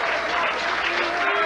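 Bowling crowd at the 1997 PBA Bayer/Brunswick Touring Players Championship breaks into steady, dense applause that fills the whole moment, a broad wash of clapping from a large audience.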